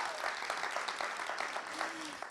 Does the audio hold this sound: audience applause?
yes